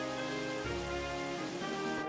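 Steady synthesized rain from Pokémon White, a constant hiss of falling drops layered with game music, with no voices.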